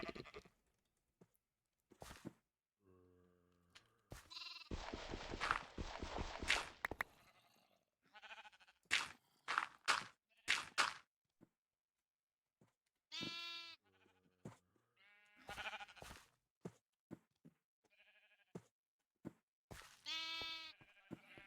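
Repeated sheep bleats from a gray sheep in Minecraft come in bursts, some long and wavering, others short, mixed with clicks and scattered game sound effects.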